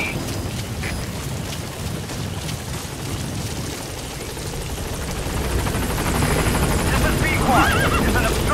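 Helicopter P-Quad arriving at the landing zone in Metal Gear Solid V: The Phantom Pain, a steady broadband rotor roar that swells louder toward the end as it draws near, with radio voice chatter over it.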